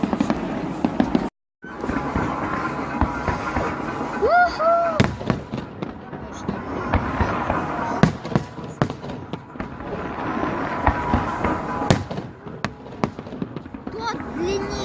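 Fireworks salute going off in a long series of sharp pops and bursts, some crackling, with whistling rises between them, fairly near; people talk throughout.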